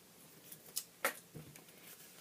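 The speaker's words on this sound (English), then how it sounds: "I just cut it off with my scissors." Scissors cut paper for a handmade card, making a few faint, quiet snips and crisp cuts spaced irregularly across a couple of seconds in an otherwise quiet room.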